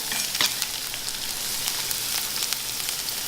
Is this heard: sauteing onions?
yes